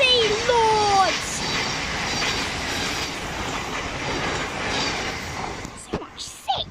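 A Class 700 train passes through Sydenham station, its wheels rumbling and clattering in a steady, fairly close roar with a brief high squeal near the start, fading into a few sharp knocks at the end.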